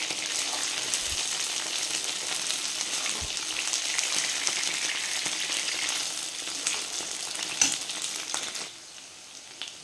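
Soya chunks fry steadily in hot oil, a dense, even sizzle with a few light stirring clinks near the start, continuing alone before thinning out in the final second.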